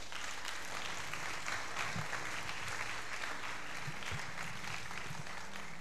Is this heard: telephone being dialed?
no